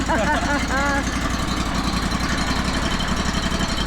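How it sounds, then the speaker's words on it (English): A Honda engine on a Hardwood Mill GT34 sawmill idles loudly and close by, with a steady rumbling drone throughout and a voice speaking briefly over it at the start. "Let it idle for a minute."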